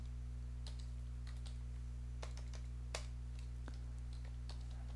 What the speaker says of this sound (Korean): 이렇게 포트라고 타이핑을 해주겠습니다